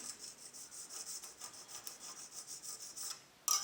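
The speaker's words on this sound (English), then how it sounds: "I'm just coming in here with this super mega fine ceramic stone." A super-fine ceramic stone is rubbed back and forth over a gun's extractor claw, giving soft rhythmic rasping strokes about three per second, faint and close, ending with a brief sharper scrape.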